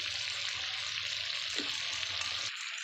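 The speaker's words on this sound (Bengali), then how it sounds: "যতক্ষণ না তেল ছাড়ে ততক্ষণ অবধি ভালো করে কষিয়ে নেব" Spiced potatoes frying in oil in a pan, a steady close sizzle with faint stirring, cutting off abruptly near the end.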